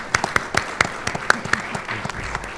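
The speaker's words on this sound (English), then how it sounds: "let's give a round of applause to our panelists" A small audience at a panel discussion on funding public universities claps for the panelists, a thin, uneven patter of separate hand claps that thins out toward the end.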